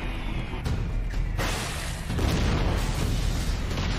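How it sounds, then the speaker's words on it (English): Bombs explode in the Attack on Titan anime, a series of heavy booming blasts with rushing, roaring debris noise that swells louder partway through and keeps rumbling steadily. "Those are the bombs!"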